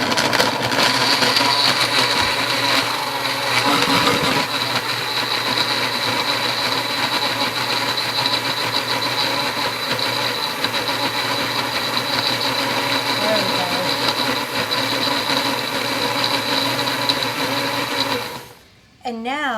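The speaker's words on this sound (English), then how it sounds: "just give this a whirl in the blender" A kitchen blender whirling a smoothie, with a steady, loud motor whine running unbroken for most of the time and then cutting off abruptly near the end, followed by brief voice sounds.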